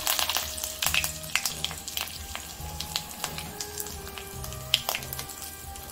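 Mustard seeds, cumin and curry leaves sizzling and popping in hot oil, a busy crackle of sharp pops over a steady frying hiss, close by with no talk.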